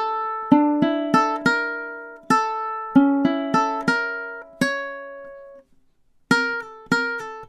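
A ukulele plays measures 9 to 12 of a flamenco rumba-style duet part, with sharp plucked and strummed chords in syncopated bursts. Each ringing attack fades away, and there is a short pause before the pattern starts again, played alone and close.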